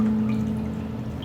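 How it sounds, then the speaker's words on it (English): Water poured into a planted aquarium, a soft steady trickle and pour running close by for about a second with faint dripping as it fades. "I'm gonna add a little bit more water."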